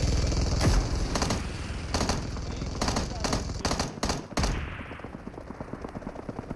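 Rapid bursts of machine gun fire in a helicopter-versus-helicopter payload mode match, repeated volleys close and loud, with excited players shouting over the shooting throughout.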